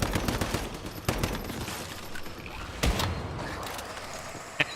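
Gunfire in the survival shooter Once Human: sharp shots and short bursts crack out at irregular intervals over a steady background hum, fairly loud and close, with no voices.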